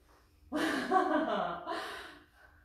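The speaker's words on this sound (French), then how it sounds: "Je souffle en montant." A single forceful breath out during a HIIT workout, a breathy whoosh lasting about a second and a half, close to the microphone, with a quieter second puff trailing after it.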